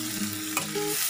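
Chopped onions drop into hot mustard oil in a wok, giving a brief, close sizzle and crackle with a little stirring, and no voices.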